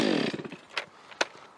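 A STIHL chainsaw fitted with a Hexa saw chain cuts wood, a loud harmonic engine whine fading over the first half second, followed by two sharp, brief bursts as the cut finishes. No one speaks.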